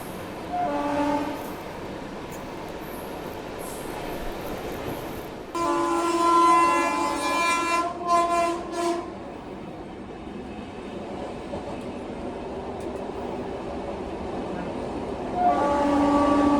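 Jan Shatabdi Express train rolling along a rail line, heard from inside a Vistadome glass coach, with a steady rumble of wheels on track, horn blasts sounding at intervals and brief murmurs of passengers talking.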